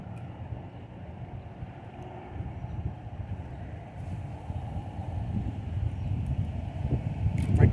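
Strong wind buffets the microphone on a fishing outing by the water, a continuous rumbling roar that grows louder toward the end with no speech.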